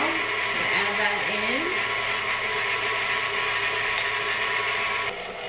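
An electric mixer creams butter for a pumpkin cake, giving a steady, close mechanical whir that runs throughout, with a voice briefly heard over it.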